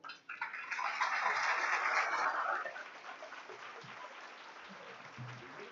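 An audience at a ceremony gives the honor table a strong round of applause, a full burst lasting a couple of seconds before thinning into faint scattered clapping and room noise.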